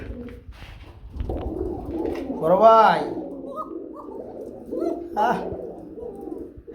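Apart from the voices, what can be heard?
Bombay fancy pigeons cooing at a market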